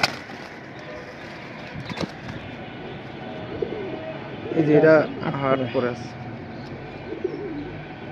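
Pigeons at a caged pigeon sale give soft, low coos, clearest around the middle, beneath nearby conversational talk and some handling noise.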